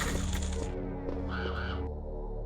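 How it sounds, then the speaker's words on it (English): Crows cawing inside the Resident Evil video game, a few harsh calls standing out midway over a dense, steady game soundscape. "Ah, birds. They peck."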